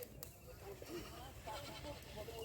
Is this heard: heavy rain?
no